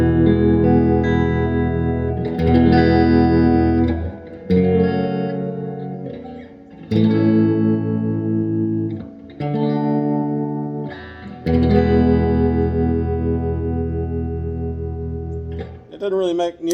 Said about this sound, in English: One of the things I like most about this particular guitar is the way the phase reversal sounds on it.